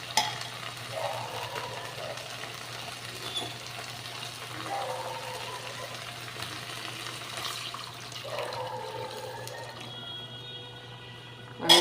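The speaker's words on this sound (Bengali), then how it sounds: "এবার আমি জল দিয়ে দেব।" Water poured into a sizzling pan of stingray fish curry, a steady watery hiss and stir of bubbling liquid running for several seconds at moderate level, with no talk.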